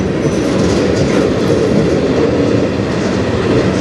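A CN freight train rolls past on the Strathroy Subdivision, a loud, steady rumble of wheels on rail with continuous clatter filling the whole span without a break.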